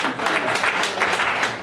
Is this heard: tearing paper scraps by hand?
no